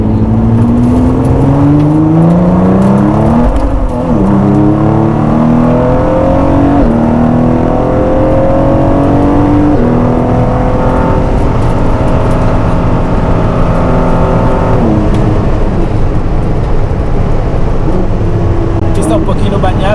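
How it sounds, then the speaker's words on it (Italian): A Ford GT on semi-slick tires laps the damp Le Mans circuit, its engine loud and close from inside the cabin, pitch climbing steadily through the gears again and again while someone talks over it. "Il mio primo giro nel circuito di Le Mans con la Ford GT."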